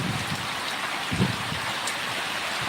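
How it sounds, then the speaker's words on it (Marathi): Heavy rain pours steadily as a dense, even hiss, with no voices and a brief louder sound right at the end. "पाऊस जोरात पडत आहे"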